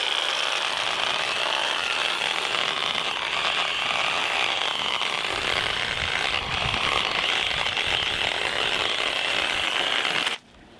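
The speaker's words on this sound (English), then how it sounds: "So we're just gonna hold the Sawzall" A Sawzall reciprocating saw cuts brush wedged against a tree trunk, a loud, continuous rapid buzzing rattle held close for about ten seconds before stopping abruptly.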